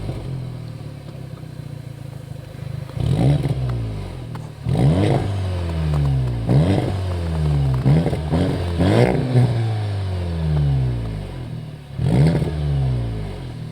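A Volkswagen Golf R engine fitted with an Akrapovic exhaust revs again and again in loud, close blips, each rising quickly and then falling away, with crackles and pops between the revs and no talking.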